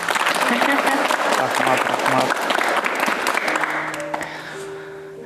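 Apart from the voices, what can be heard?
studio audience applause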